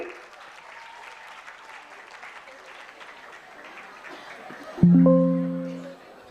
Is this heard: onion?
no